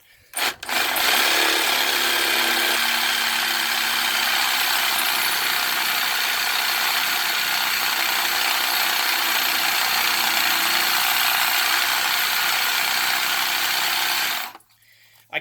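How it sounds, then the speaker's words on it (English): A Sawzall reciprocating saw without variable speed runs wide open, a loud steady buzzing roar that holds unbroken for about fourteen seconds before cutting off. "I don't have a variable speed on this Sawzall"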